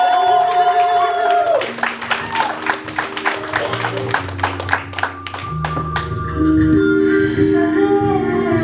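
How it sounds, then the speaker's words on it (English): Crowd applause with scattered claps and cheering, fairly loud and sustained, mixed with music and voices in a lively venue. "Can y'all give a round of applause for Miss Atlanta one more time, please?"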